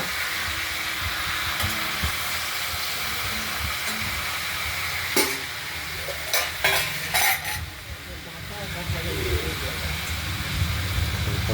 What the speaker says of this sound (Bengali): নাড়াচাড়া করে তরকারিগুলোকে এটি টপিট করে দেব